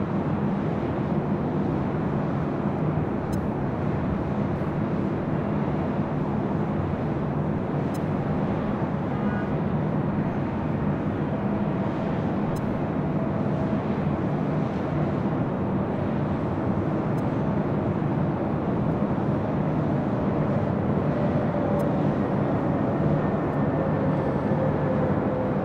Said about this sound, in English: This is the American A321.